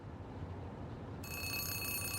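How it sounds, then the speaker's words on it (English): A telephone in the spy game Zero Parades starts ringing midway through, a steady trilling electronic tone over a low, muffled ambient rumble. "As you turn away, a phone begins to ring."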